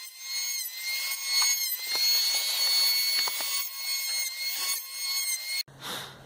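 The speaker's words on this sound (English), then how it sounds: "I'm actually going to go ahead and take the planer and do a couple of passes along the face here" A power hand planer whines steadily with a high-pitched tone as it makes passes along the face of a pallet wood board, with rasping cuts underneath and a short burst of noise at the end.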